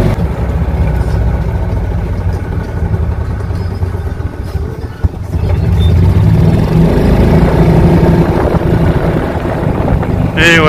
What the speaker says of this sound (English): Wonder how good this golf cart is on hills.